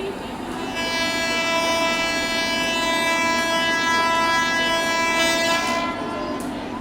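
A locomotive horn sounds on the 17230 Sabari Express in the Train Simulator (Railworks) game: one long, steady, loud blast lasting about five seconds over a constant rumble of rolling wheels and engine noise.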